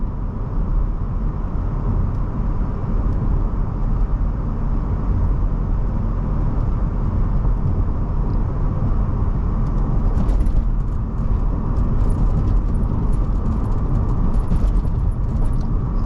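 Steady, loud interior road rumble from a car driving over a short bumpy, rough stretch of road, a dense low roar that runs unbroken, with faint rattles showing up later on.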